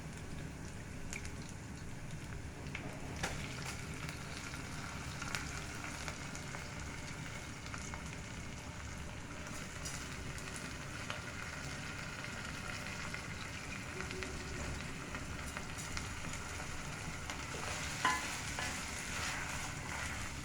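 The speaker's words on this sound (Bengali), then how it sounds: "ভালো করে ভেজে নিতে হবে" Rice frying in oil in a pot for pulao, a continuous steady sizzle with scraping stir strokes throughout, close and moderately loud, with no talking.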